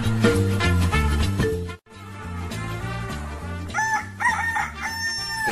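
A rooster crows loudly and close, its drawn-out calls rising and falling, repeated after a short break.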